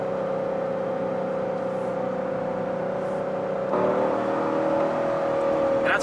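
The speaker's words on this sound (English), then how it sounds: "Of course, the exhaust sounds great." A Corvette Grand Sport's naturally aspirated LS V8 exhaust drones at a steady idle, then the engine revs up slightly with a deeper, louder growl partway through.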